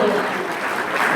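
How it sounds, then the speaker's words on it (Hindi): Applause from the audience at a Hindi poetry recital, a dense, steady wash of many hands clapping, loud and continuous throughout with no break. "तालियां नितांत आवश्यक है"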